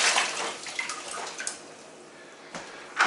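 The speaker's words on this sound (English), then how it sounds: "I'm going to be moving the honey water mixture into the carboy." Honey and water mixture for mead poured into a carboy, a continuous splashing liquid pour with sharp gurgles and bursts near the end, close and fairly loud.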